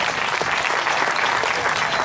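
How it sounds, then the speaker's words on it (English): A dense round of clapping from a crowd at a Pride parade event, loud and sustained for the whole moment with no pauses. "let's give that kid a round of applause."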